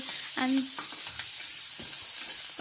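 Onion and chili sizzling and frying in hot oil in a pan, a steady crackling hiss with a brief stir and scrape of a spatula, up close and without talk.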